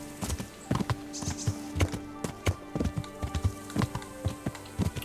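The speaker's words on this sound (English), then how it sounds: "Come on, horse, let's go." A ridden horse in Kingdom Come: Deliverance trots along a trail, its hooves clip-clopping in a steady, close, rhythmic pattern of distinct knocks with no talk over them.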